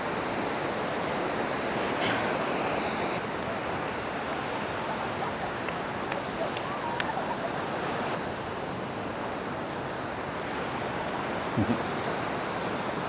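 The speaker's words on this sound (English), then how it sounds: "I love the sound of the water, of the waves." Ocean surf washes onto a sandy beach in Da Nang, Vietnam, a broad, steady roar of breaking waves with wind buffeting the microphone and no talking.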